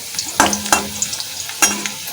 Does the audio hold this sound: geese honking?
no